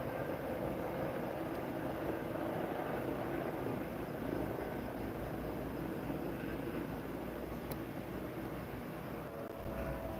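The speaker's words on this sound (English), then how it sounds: "We definitely have a helicopter in the air" A steady, loud low rumble with a dense drone from a helicopter hovering overhead during a police stand-off, continuous throughout.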